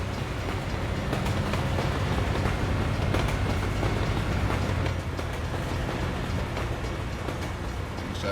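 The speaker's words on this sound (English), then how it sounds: "The train decides to come as we're pulling out." Short train rolling past in American Truck Simulator, a sustained rumble with repeated rail clicks and clacks, steady and fairly close over several seconds, without any speech.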